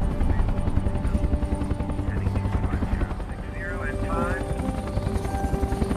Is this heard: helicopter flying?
yes